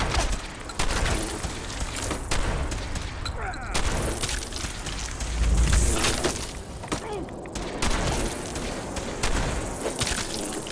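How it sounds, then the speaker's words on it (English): Shotgun blasts in Fallout 4 punch through a dense, noisy combat mix, with several loud sharp bangs spread through the stretch and a heavy thump near the middle. "A shotgun."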